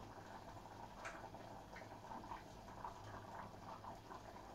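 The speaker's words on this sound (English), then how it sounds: "After about 3 minutes, I've now got a boiling pot" A pot of potatoes on the boil bubbles softly, scattered pops and gurgles over a low steady simmer, faint and close, with no one speaking.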